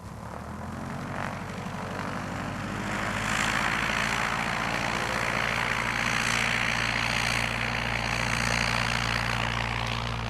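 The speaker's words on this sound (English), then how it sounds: "Some mountain pilots perform a run-up while they're taxiing" A small propeller airplane's engine runs up loudly while taxiing on a mountain airstrip, a steady droning roar with propeller buzz that swells slightly and holds close, with no talk.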